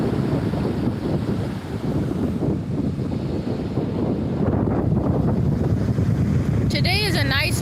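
Steady gusting wind roars across the microphone with a broad rush of surf beneath it on a beach in Japan, continuous and loud throughout.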